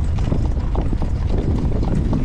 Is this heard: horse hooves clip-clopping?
yes